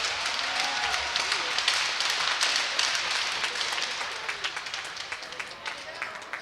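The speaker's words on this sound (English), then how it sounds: "A nice round of applause" Crowd applause at a high school ice hockey game as seniors skate out onto the rink, a steady wash of clapping with some cheering that thins into scattered claps.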